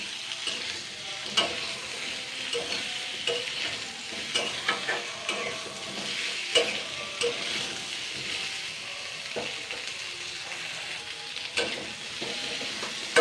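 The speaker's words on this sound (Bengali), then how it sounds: "মিষ্টি কুমড়োটা এরকম দুই তিন মিনিট হালকা নাড়াচাড়া করে নেবো আর কি ভেজে নেবো" Pumpkin seasoned with salt and turmeric is stirred and fried in a pan, a continuous close sizzle broken by repeated spoon scrapes and taps, with no voices over it.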